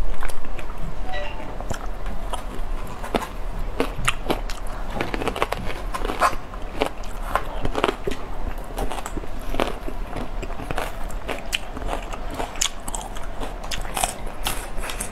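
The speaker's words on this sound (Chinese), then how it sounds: "今天吃这个柠檬啊，可酸了" Someone bites into and chews a sour lemon at close range, a run of crisp, repeated wet crunches and squishy chewing noises that continues steadily throughout, with faint background noise.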